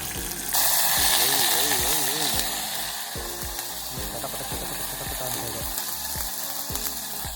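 Garlic and ginger paste hits hot oil in a pan over an outdoor campfire at a night tent camp, giving a loud, broad sizzle that carries on steadily under someone talking.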